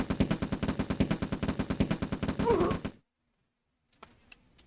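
Rifle fire in the real-time strategy game OpenRA Red Alert: a rapid, evenly spaced string of about twenty sharp shots ending abruptly, then silence and a few faint clicks.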